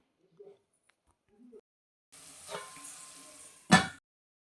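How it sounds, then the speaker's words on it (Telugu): Ginger garlic paste fries with onions in a pan, giving a soft sizzle that swells midway, followed by a sharp stirring scrape near the end after a few faint clicks. "ఇప్పుడు ఇందులోకి అల్లం వెల్లుల్లి పేస్ట్ కూడా వేసి మరొకసారి పచ్చివాసన పోయే వరకు వేయించుకోవాలి"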